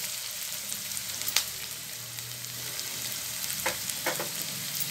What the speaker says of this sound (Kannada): ಸ್ವಲ್ಪ ಎಣ್ಣೆನಲ್ಲಿ ಫ್ರೈ ಆಗಲಿ ಇದನ್ನ